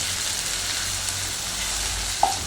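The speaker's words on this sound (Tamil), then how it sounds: "இஞ்சி பூண்டு ஸ்மெல் வந்து நல்லா பச்சை வாசம் போகிற வரைக்கும் நம்ம வந்து வதக்கணும்" Ginger and garlic sautéing in oil for rava kichadi, a continuous even sizzle, close and moderately loud, with one faint clink near the end and no talking.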